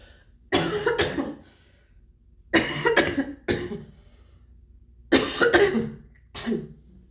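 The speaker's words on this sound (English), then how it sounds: "Please, excuse me, coughing and sneezing and hacking." Three bursts of hacking coughs, each a rapid cluster of two or three loud, close coughs, separated by quiet pauses.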